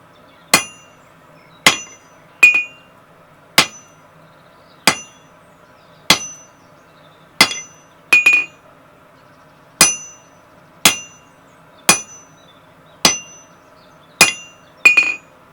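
A blacksmith's hammer strikes a steel drift on an anvil, shaping it hexagonal with the flat face, in a steady series of about fourteen sharp ringing blows, some doubled, evenly spaced and close.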